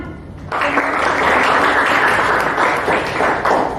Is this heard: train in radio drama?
no